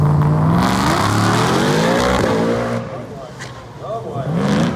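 A muscle car on drag radials makes a drag pass at a muscle car show, its engine revving hard with rising and falling pitch as the tires break loose, while people talk over it.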